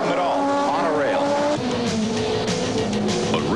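An Audi race car brakes hard into a corner on track, engine pitch falling through downshifts with some tire squeal, loud and close, under steady commentary talk.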